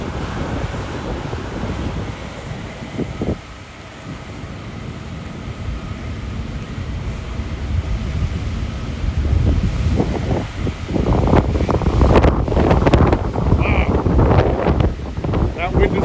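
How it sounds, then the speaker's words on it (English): Strong wind gusts blow across the microphone outdoors near parked fire trucks and rescue vehicles, a continuous rumbling roar that swells in the second half, with someone speaking briefly under it. "Wow, that wind is amazing."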